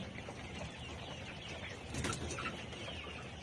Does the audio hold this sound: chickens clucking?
yes